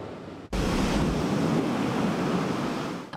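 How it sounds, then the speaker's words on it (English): Massive ocean waves crash in San Pedro Bay off Long Beach during a flooding surge, a loud continuous roar of surf with broadband wash and wind noise, beginning abruptly and sustained throughout. "An unusual sound in this part of Long Beach, massive waves crashing in the San Pedro Bay"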